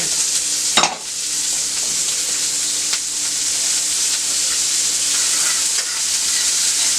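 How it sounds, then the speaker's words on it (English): Onions fry in butter in a pan for a mushroom, Swiss and bacon burger, giving a steady close sizzle with a brief stirring scrape near the start. "You see them onions there cooking real nice."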